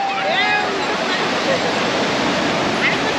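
Sea surf rolls in at Puri beach as a continuous, loud broadband roar, with voices calling faintly over the crashing water.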